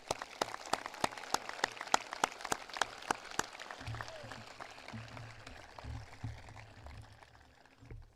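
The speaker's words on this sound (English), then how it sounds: "Please join me in giving them the first round of applause tonight." Applause at a high school graduation ceremony: sharp, evenly spaced claps from one person close by, heard over a faint, distant crowd clapping that slowly fades.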